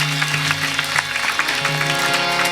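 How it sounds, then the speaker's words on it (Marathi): An audience claps steadily in rhythm during a devotional katha, the clapping layered over a sustained harmonium-like drone and low chanting. "टाळ्या वाजवा द्यावा"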